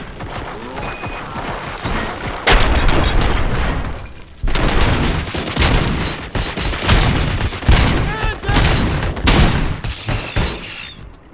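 Heavy gunfire in RoboCop: Rogue City, loud bursts of automatic shots with booming impacts and shattering debris, coming in several clustered volleys separated by brief lulls.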